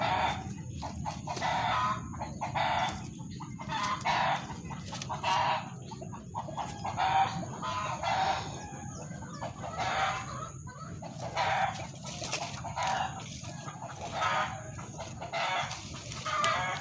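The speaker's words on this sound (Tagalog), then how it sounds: "Ingay yung mga manok." Several chickens cluck in repeated bursts nearby while roosters crow now and then, a busy, continuous farmyard chorus over a low background hum, with no talk.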